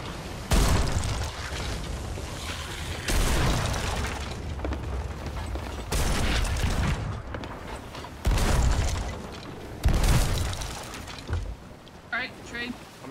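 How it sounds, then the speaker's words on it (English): Heavy booming ship cannon shots in the game Sea of Thieves fire repeatedly at irregular intervals, each a deep rumbling blast, with voices talking underneath. "Just keep hitting him with cannons."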